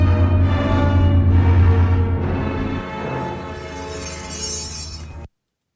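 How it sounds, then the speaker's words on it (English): Cylon base star sound effect from Battlestar Galactica: a loud, dense electronic drone with a heavy low hum and shimmering harmonic layers that shift midway, running about five seconds before cutting off abruptly. "the wonderful-looking Cylon base stars appear, you get to hear the sound effect"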